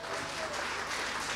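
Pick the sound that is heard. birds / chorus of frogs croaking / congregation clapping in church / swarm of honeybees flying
congregation clapping in church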